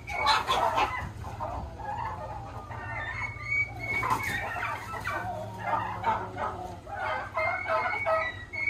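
Chickens clucking and squawking loudly in bursts during a fight in a coop, agitated cackles rising and falling close by, with a low hum underneath.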